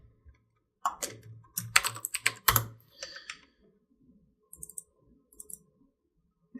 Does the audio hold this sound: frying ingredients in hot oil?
no